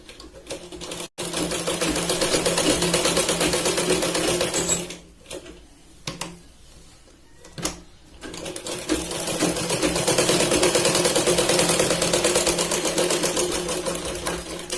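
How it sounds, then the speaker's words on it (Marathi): A sewing machine runs in fast, steady bursts of stitching along the shoulder seam of a katori blouse, stopping briefly with short pauses and clicks before racing on again, close and loud. "इथे 2 ते 3 वेळा आपल्याला शिलाई लावायची आहे शोल्डरच्या पार्टला"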